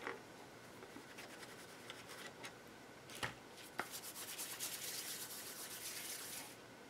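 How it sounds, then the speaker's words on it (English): Old fabric rubbed against a tea dye Distress ink pad, a soft, close dry scratching and brushing that runs steadily throughout, with a couple of sharper taps midway and no talking. "I'm just going to rub it a little bit on the tea dye, Distress ink."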